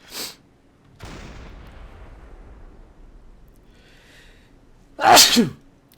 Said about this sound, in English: Missed where that shot landed while I sneezed.